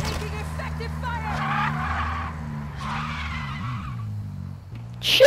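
Tires squeal through a drifting slide as an engine note rises and falls in the Call of Duty DMZ video game, loud and continuous for several seconds, with a burst of game noise at the end.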